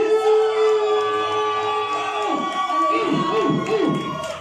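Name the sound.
congregation shouting and cheering in worship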